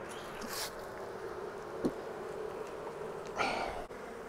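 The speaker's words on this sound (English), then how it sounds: "So here's a case where there's a lot of bees right here on this outside wall." A crowd of honeybees clustered on the outside wall of a hive gives a steady, close, continuous buzz, with a couple of louder individual bees passing near, and no talking.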